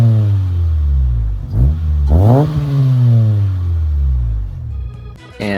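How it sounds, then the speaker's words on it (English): A B20B-powered Integra with a Yonaka exhaust revs up sharply twice, rising and falling in pitch. The raspy exhaust note is loud and close, and the engine settles back to a throaty idle between the pulls. "Running a Yonaka exhaust."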